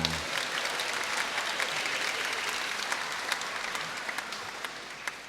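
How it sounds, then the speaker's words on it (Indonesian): A church congregation claps together at a Christmas Eve vigil Mass, a broad sustained wash of hand claps that stays loud and even from start to finish, fading only slightly near the end. "Yang lainnya kita beri tepuk tangan untuk kita semua."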